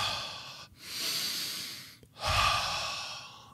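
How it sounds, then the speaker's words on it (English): Slow, deep focused breathing close to the mic: two long, breathy airflow swells, each broken by a brief pause, as the breath is drawn in and let out gently with no talking. "Take a deep inhalation. Exhale it slowly."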